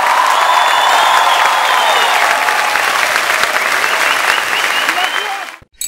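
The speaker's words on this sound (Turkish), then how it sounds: "Alkışlar Model ve Ozan Doğulu için" A studio audience on a Turkish television show applauds steadily and loudly for Model and Ozan Doğulu, dense clapping with a few cheers, cutting off abruptly at the end.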